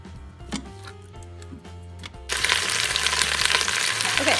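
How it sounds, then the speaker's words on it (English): Chicken breasts, thawed in a microwave, go into the bottom of a pressure cooker and start searing; after a couple of seconds of quiet clinks, a loud continuous sizzle erupts and holds steady. "And then I'm just gonna put them in there in the bottom and let them sear."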